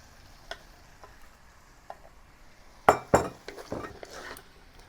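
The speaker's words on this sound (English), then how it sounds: "mix the udon noodles with all the vegetables together" Udon noodles and vegetables are stir-fried in a pan, with faint sizzling under scattered metallic clinks and a few louder scraping clatters of a utensil against the pan.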